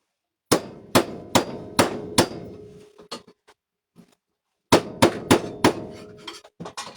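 Rapid series of ringing metallic hammer blows on a metal plate held with vise grips, about five strikes, a short pause, then another quick run of strikes, close and loud.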